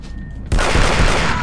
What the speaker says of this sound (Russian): давайте дробовик тогда будем использовать, коль уж патронов к нему у нас предостаточно